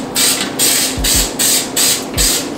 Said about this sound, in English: And we wanna get this really nice and coated so that the cake comes out easy.